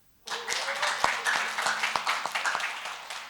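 Audience clapping during a health talk on fermented noni for diabetes, a dense patter of many hands with sharper individual claps standing out, fairly close and steady, with a voice faintly audible underneath.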